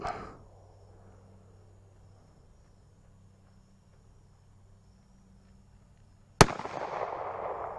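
After a long hush with faint insects chirping, one loud .45 Long Colt revolver shot bangs out and trails off in a rumbling outdoor echo.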